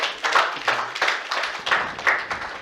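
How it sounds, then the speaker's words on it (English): A small audience at a Lagos trading summit claps for a prize winner, giving a short burst of crisp, uneven hand claps that stays close and fairly loud throughout. "Can you give a round of applause to him?"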